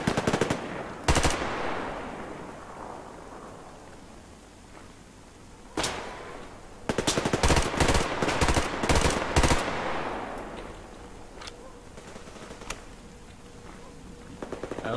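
Automatic gunfire from the online shooter game Survarium, with a couple of sharp single shots early on, then a loud sustained burst of rapid rounds, followed by quieter scattered distant shots.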